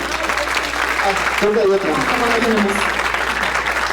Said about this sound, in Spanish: les pido un aplauso para el doctor